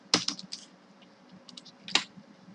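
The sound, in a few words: typing code on a computer keyboard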